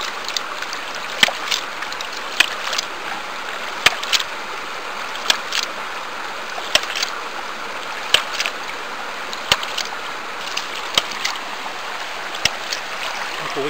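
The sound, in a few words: ram pump being primed and running with water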